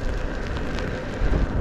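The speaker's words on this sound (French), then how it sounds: "c'est officiellement la première vidéo sous une grosse pluie" Heavy rain pours down outdoors in a steady, dense hiss, with a brief louder surge near the end and some wind noise on the microphone.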